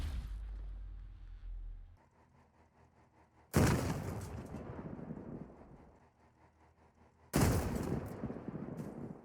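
Upgraded weapons fire in a video game in two loud, sudden blasts about four seconds apart, each a broad burst of gunfire that decays into a rumbling tail, with a quieter mechanical hum before the first.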